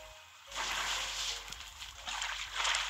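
Water released in the mobile puzzle game Save the Fish, a rushing, splashing gush that starts abruptly and keeps flowing with small surges.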